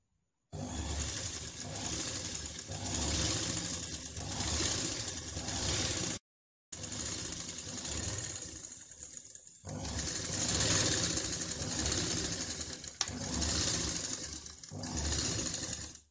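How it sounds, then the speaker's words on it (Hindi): An electric sewing machine stitches blouse fabric with lining in a long steady whirring run, briefly stopping once and then resuming, its fast needle chatter continuous and close. "जब आप ये सिलाई लगाएंगे बिल्कुल बराबर रखते हुए"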